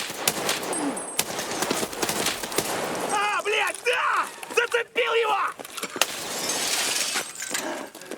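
Gunfire in the shooter Escape From Tarkov on the Shoreline map: dense, repeated loud shots and impacts with rapid bursts among chaotic game sounds, under a voice talking.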